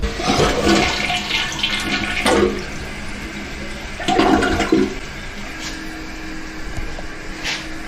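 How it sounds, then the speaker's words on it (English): A newly installed toilet flushes close by. Water rushes loudly and swirls down, then the tank gurgles and refills with a steady hiss. No one speaks. "Let's flush it one time and see how it does."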